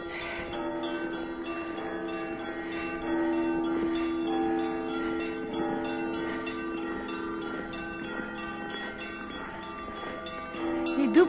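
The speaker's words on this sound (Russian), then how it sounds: "Иду под звон колоколов." Christmas church bells peal at night in Murmansk, a dense, continuous ringing of several bells with sustained overlapping tones, steady in loudness throughout without any talk.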